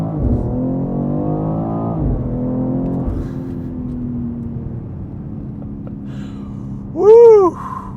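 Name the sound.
BMW X3 M engine accelerating with synthetic sound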